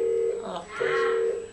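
A telephone sounds indoors with a steady electronic ringing tone that breaks briefly midway and then resumes, while people talk over it close by.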